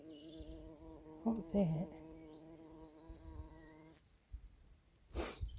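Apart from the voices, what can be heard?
buzzing of a wasp or bee outdoors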